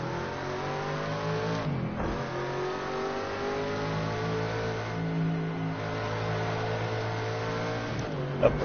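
A race car engine in Project Cars 2 drones steadily at high revs, rising through gears with short dips at the shifts, loud and continuous throughout, with no talk.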